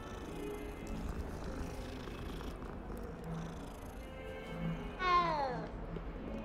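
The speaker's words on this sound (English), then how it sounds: "Oh my god, there's more cats." Cats in Hogwarts Legacy make soft, faint purring and murmuring sounds over a low ambient bed, then one clearer meow rises briefly near the end.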